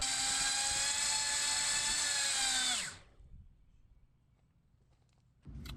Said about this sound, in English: I basically just have a motor clamped down. 4-cell, and we'll see if we can get to full throttle.